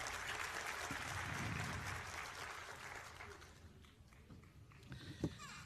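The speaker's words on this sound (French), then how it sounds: "Je pensais qu'on aurait pu applaudir ça." A crowd claps together in steady applause that gradually thins out and fades, leaving scattered quieter sounds at the end.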